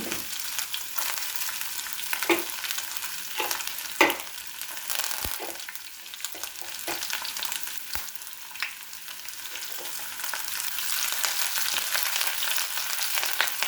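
Chopped ginger and garlic fry in hot oil in a pan for a mango and carrot pickle, giving a steady bright sizzle with occasional stirring clinks and spatters, close up and without talk.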